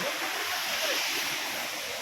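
Steady rushing water roars without a break, a broad constant wash of Barakanya Waterfall in Nayagarh heard close by in a forest, with no voices.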